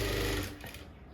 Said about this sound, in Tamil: இதை லைட்டாக நம்ம சேர்த்து வச்சு தைச்சிக்கிடலாம்